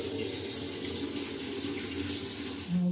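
Steady running water from a tap, filling a bowl so cats can drink, a continuous close hiss and splash with no speech.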